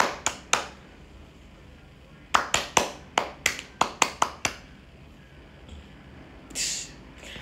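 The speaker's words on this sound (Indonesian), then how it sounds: "Tepuk pramuka." Scout-style rhythmic hand clapping: three quick claps, a pause, then a brisk run of about nine sharp claps in a patterned beat, close and loud, followed by a faint breathy sound.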